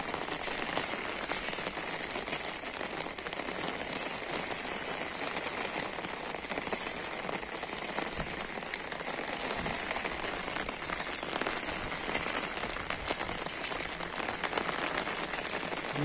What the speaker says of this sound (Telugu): భారీ వాన కొడుతుంది